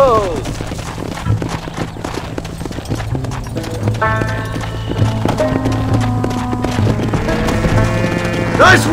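Horse hooves clip-clop at a quick gallop beneath swelling orchestral music, with a few faint voices mixed in, from the video game Red Dead Redemption.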